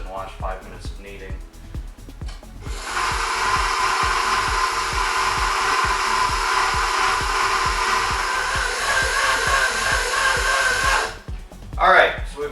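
A machine kneading vegan French bread dough gives a steady whirring hum for several seconds, starting and stopping abruptly, beneath a person talking throughout.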